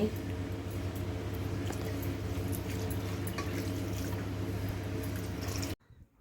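About a litre of water is poured over paneer for rasagulla to rinse off the lemon flavour, making a steady close splashing that runs unbroken for nearly six seconds and then stops abruptly.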